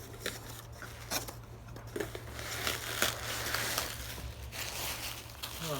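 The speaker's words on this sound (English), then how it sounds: "That's I think the bubble wraps." Bubble wrap packaging crinkles and crackles as car modification parts for a Honda Accord Sport 1.5T are unboxed, with irregular close crunching and rustling and a steady low hum underneath.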